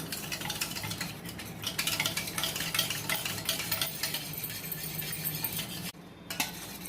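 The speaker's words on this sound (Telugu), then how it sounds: "ఇలా ఉండలు లేకుండా కలిపేసుకోవాలండి" Cornflour and water being stirred briskly in a bowl for Karachi halwa, a continuous scraping, swishing rhythm close by that runs steadily, with a short pause near the end before resuming, no talk.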